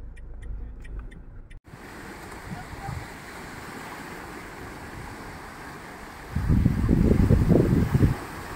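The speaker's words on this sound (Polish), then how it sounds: "A słychać strasznie silny wiatr." Strong night wind at Lake Balaton roars steadily and buffets the microphone, swelling into a louder, rumbling gust near the end.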